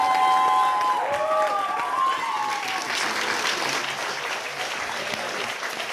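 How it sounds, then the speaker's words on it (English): Audience at a New York City poetry event applauds and cheers for a young Bronx poet, dense steady clapping filling the room from start to finish, with whoops and a few overlapping voices early on. "Put your hands together, make a lot of noise for Miss Popcorn."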